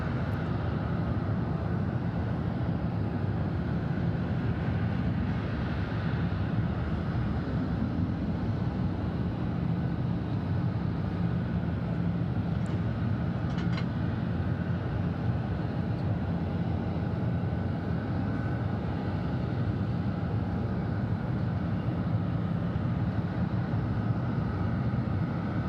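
KLM airliner departing Atlanta Hartsfield-Jackson International Airport, a steady distant low rumble of jet engines that holds evenly throughout, with no voices.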